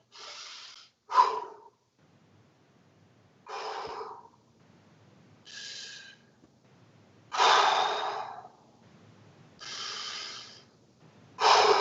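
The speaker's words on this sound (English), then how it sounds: "let's check our breathing" Heavy, forceful breaths after an exercise round, about seven loud bursts of exhaling and inhaling separated by short pauses, close and isolated with no talk.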